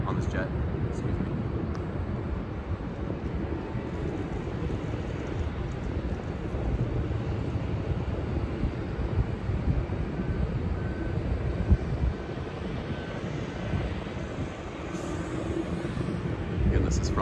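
A jet aircraft engine rumbles at an airport cargo and freight terminal, a steady, loud low roar with wind buffeting, continuing throughout.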